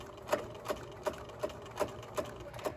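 A sewing machine runs a straight seam along a face mask, giving a steady mechanical whir with a regular stitch-by-stitch clatter of about eight even pulses, close and alone.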